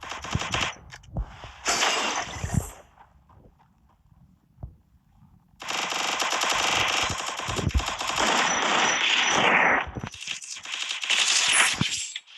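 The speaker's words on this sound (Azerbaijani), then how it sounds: "bu silah mənim əlimə hardan gəldi bu UMP" UMP submachine gun in a video game firing long rapid automatic bursts, loud and close, broken by short pauses and a few scattered single shots.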